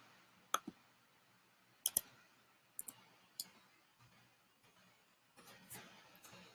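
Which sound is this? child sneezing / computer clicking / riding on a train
computer clicking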